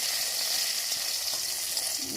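Garlic sizzles in a pan, a loud dense steady hiss of hot oil filling the whole stretch, close up and alone.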